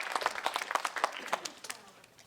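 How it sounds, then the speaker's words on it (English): A small audience at a senior center claps in a light, scattered round of applause that thins out and fades within a couple of seconds. "how about a round of applause just for trying?"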